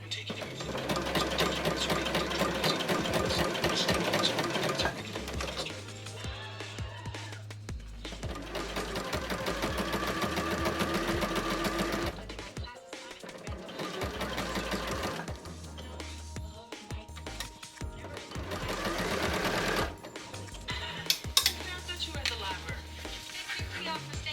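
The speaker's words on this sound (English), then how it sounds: "I'm going to sew this, and then I think we're going to turn the inside out, and then I'm going to top stitch." A home sewing machine stitches a fabric pocket in long, rapid mechanical runs, broken by short pauses, close and fairly loud with no talking.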